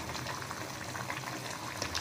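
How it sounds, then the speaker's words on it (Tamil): A pot of tamarind stew for pirandai masiyal bubbles steadily at a rolling boil, a dense continuous gurgling and popping heard up close with no talking. "தண்ணி சேர்த்து நல்லா கொதிக்கட்டும்."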